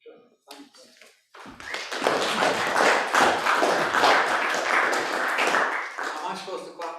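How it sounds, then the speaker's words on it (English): An audience at a research forum lecture breaks into steady applause lasting several seconds, many hands clapping together at a moderate distance, after a few quieter taps at the start. "we're clapping you leaving"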